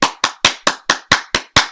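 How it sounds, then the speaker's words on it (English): Eight sharp, evenly spaced claps ring out close and loud in a strict rhythm about a fifth of a second apart, each one cracking and then decaying briefly before the next. "give yourself a round of applause"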